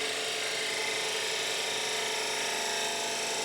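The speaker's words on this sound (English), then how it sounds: "So I'm going to a shallow fluted gouge at this point." A lathe runs steadily as a shallow fluted gouge cuts wood on a turned scoop, giving a continuous, even whirring hiss with no pauses or talk.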